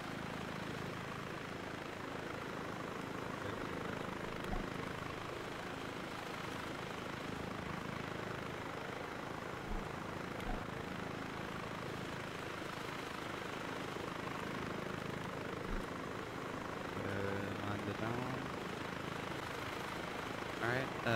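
A helicopter in the Arma 3 video game flies with a steady, dense rotor and engine roar that holds at constant loudness, with a voice talking over it at times.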